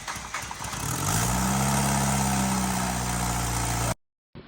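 A Fiat MultiAir car engine starts after an oil priming procedure, catches quickly and settles into a steady, loud, close idle with a low rumbling drone for several seconds before cutting off abruptly.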